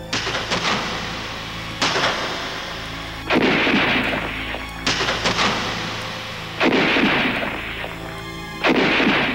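Battle gunfire between Rio and São Paulo troops, Brazilian infantry clashing on 13 July, comes as heavy booming volleys, loud and close, in about six bursts a second or so apart, each ringing out before the next.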